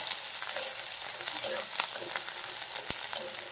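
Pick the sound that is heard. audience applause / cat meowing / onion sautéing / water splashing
onion sautéing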